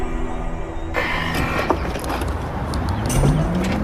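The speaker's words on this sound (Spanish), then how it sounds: "Hay algunos coches en la carretera" A car passes along a road, a steady broadband engine and tire rush with a faint rising motor tone toward the end, loud and close.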